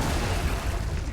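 A frag grenade explodes on an enemy nest in Gears of War 4, a dense, loud booming rumble sustained across the whole short moment with no talk.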